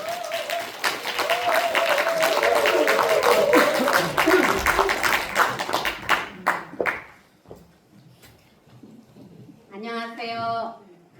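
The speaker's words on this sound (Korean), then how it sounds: "큰 박수로 맞이해 주시기 바랍니다" An audience at a Korean volunteer-showcase presentation event applauds to welcome the next speaker, a short burst of clapping after a stretch of announcer speech and then fading into quiet.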